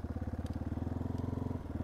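A motorcycle engine idles close by, a steady, rapid, throbbing pulse that runs evenly for under two seconds with no voices over it.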